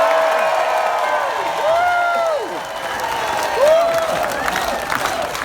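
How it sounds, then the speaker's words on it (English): Audience applause and cheering at a political rally honoring Representative Ro Khanna, a steady crowd roar with clapping running the whole time, mixed with shouts and whoops. "The applause is not for me, it's for all of you"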